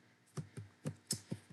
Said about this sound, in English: so I'm typing and you can see it come up here.